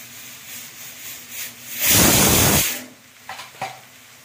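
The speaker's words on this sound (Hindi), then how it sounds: "अब इसे थोड़ी देर भुनने देते हैं हम।" Masala with red chili powder frying in a pan for murg musallam gives a loud, broad hiss that swells for about a second over a quieter background sizzle, followed by a few short crackling pops.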